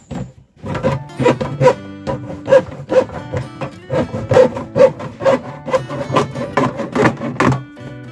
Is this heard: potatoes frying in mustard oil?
no